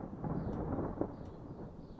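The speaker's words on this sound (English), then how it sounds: "The occasional roll of thunder rattles the tin roof." A low, distant roll of thunder rumbles continuously for a couple of seconds under steady storm noise, faint and muffled overall.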